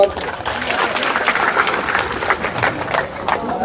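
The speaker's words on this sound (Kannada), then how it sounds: "ಜೋರಾಗಿ ಚಪ್ಪಾಳೆ" A large crowd at a farmers' protest rally at Gurlapur Cross in Belagavi district bursts into loud, sustained applause, dense clapping filling the air with a few voices mixed in.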